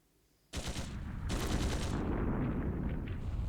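Gunfire in the video game Trails Through Daybreak II: a loud, sudden burst of sustained shooting that starts sharply, briefly dips and then roars on as continuous heavy fire, with no voices over it.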